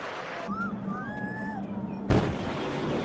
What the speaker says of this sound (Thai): อันนี้จะเป็นตัวอย่างของ ปรากฏการณ์โซนิกบูมนะครับที่จะอยู่ในชีวิตประจำวันของเรานะครับ